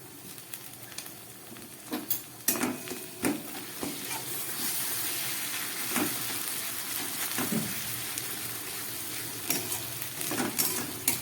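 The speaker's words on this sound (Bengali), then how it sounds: "খুব ভালো করে আদা রসুনটাকে আমি এবার ভেজে নেব যাতে কাঁচা গন্ধটা না থাকে" Ginger-garlic paste, freshly ground on a stone, sizzles steadily in a pan on a home stove, with the hiss running throughout and irregular scrapes and clinks of a spoon stirring it through the oil.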